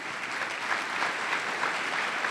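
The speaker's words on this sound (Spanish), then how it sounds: "Este aplauso es para usted que nos escucha por la radio." A church congregation applauds in Ciudad de Dios, San José, Costa Rica, steady, moderately distant clapping from many hands that continues evenly throughout.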